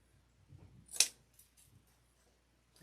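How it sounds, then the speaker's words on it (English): A single crisp snip of cutters through a grapevine stem while a poinsettia wreath is trimmed, a sharp close click amid quiet handling noise. "These we're going to cut down a little bit. Okay. Cut these down."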